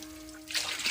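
Water trickles and splashes as freshly rinsed bitterleaf plants are released back into a pond, a soft steady dribble that swells louder in the second half of the brief moment, with no voices.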